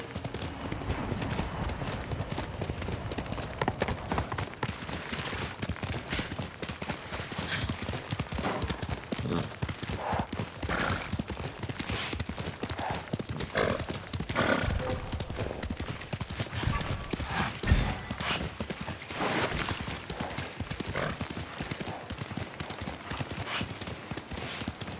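Horse hooves clip-clop at a steady gallop in Ghost of Tsushima, a continuous rapid drumming across the whole stretch with brief whinnies mixed in, the rider's voice heard once.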